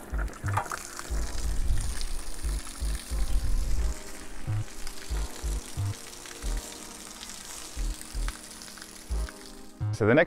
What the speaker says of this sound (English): And then I open the pressure relief valve.